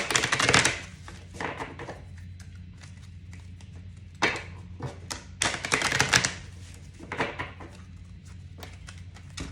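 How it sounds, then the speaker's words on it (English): Tarot cards are shuffled close by in a few separate bursts of quick, riffling flutters, with quiet pauses between them. "A few shuffles here."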